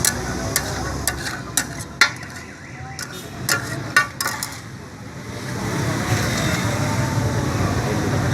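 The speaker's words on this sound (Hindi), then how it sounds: "ये 2 से 3 मिनट तक इसको फ्राई करेंगे।" Chicken frying in three to four tablespoons of oil on a flat tawa, a steady low sizzle under occasional sharp metal clinks of a spatula stirring, with a person talking over it.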